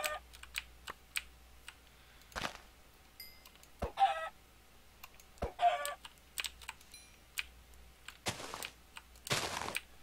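Chickens cluck in short, scattered bursts in a Minecraft-style survival game, heard alongside frequent sharp clicks and taps of a computer keyboard, fairly faint and close.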